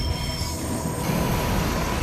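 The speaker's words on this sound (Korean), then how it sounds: "26개의 거대한 레일이 실린 열차가 곡선을 그리기 시작하는데" A train loaded with 26 huge steel rails rolls through a curve, its wheels giving off a loud, continuous squeal over a low rumbling roar.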